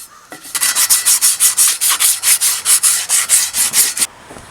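Rhythmic, close sanding on a C10 restoration, about sixteen quick, even back-and-forth strokes over four seconds, loud and alone.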